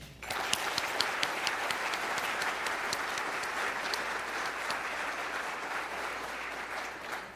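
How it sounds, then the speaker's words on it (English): Steady audience applause fills the room for the League of Women Voters volunteers at a county State of the County address, a dense, even clapping that holds at full strength throughout with no voices over it. "I'd like for you all to give a round of applause to the League of Women Voters volunteers who put on this event."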